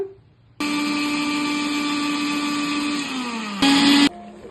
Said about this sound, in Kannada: ಸ್ವಲ್ಪ ನೀರು ಹಾಕಿ ರುಬ್ಕೊಳ್ಳೋಣ.